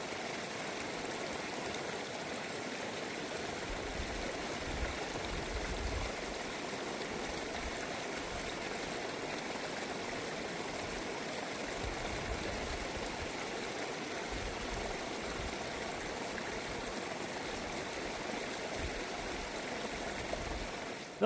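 Steady creek water flows and trickles past a backcountry campsite on the bank, a constant close, even rush of the stream with no voices over it.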